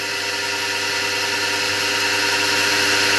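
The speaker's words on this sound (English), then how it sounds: "I'm having another go at" A power drill runs continuously while cutting pot marks into a motorcycle's rear crankcase cover, a steady, close whine with a constant hum and no pauses.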